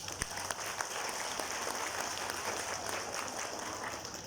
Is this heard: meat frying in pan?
no